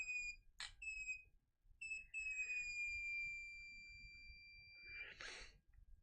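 A JDS2012A handheld multimeter's continuity tone, tested with tarnished probes, sounds as a brief chirp followed by steady high beeps that sweep slightly, with a short breathy burst at the start and another near the end, close and fairly quiet.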